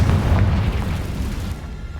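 Confringo fire blast cast in Hogwarts Legacy, a loud booming explosion with heavy low rumble right at the start that slowly decays over about two seconds, no voices.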